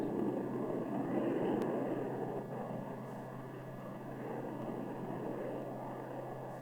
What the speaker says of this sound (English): If there is any doubt of performing coordinated aerial maneuvers, watch this one with John Fitzpatrick, company test pilot